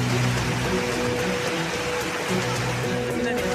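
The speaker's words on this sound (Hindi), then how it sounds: "लगातार हो रही बारिश लोगों के लिए मुसीबत खड़ी कर रही है।" Continuous heavy rain pours down during cloudburst flooding in Itanagar, Arunachal Pradesh, a dense, steady hiss of water that stays even and unbroken throughout.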